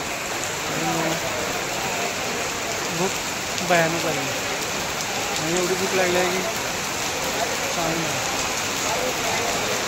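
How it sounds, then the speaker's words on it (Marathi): Heavy rain pours steadily at Pratapgad fort, a dense, continuous hiss of drops hitting the ground throughout, with someone talking over it. "आणि पाऊस बघा किती जोरात चालू आहे."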